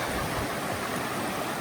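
Stream water on the Appalachian Trail rushing around bare feet and ankles among rocks, a dense, steady close-up wash of flowing water filling the whole moment.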